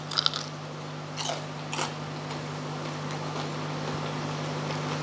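Crunchy bites into a crispy lacha aloo tikki, a few sharp crackling crunches near the start, close and distinct over a low steady hum, then quiet chewing.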